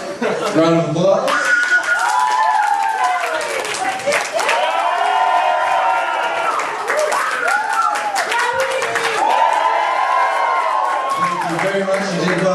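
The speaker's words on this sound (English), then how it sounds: "Round of applause." An audience at a high school comedy hypnosis show breaks into sustained clapping with some cheering and chuckles, while a voice talks over the applause.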